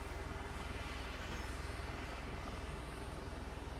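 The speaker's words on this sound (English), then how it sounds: "That roar? It's not just noise, it's presence. 4 props, full thrust, 0 hesitation." A four-propeller military transport aircraft has its engines roaring at full thrust. It makes a dense, steady, droning roar that holds evenly for a few seconds and then cuts off abruptly.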